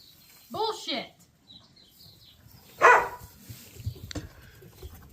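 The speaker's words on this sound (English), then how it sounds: "you can get out of the barn if you're going to stand over there and bark" A dog barks inside a barn, a loud sharp bark followed by a second one a couple of seconds later, amid faint rustling and quiet background noise.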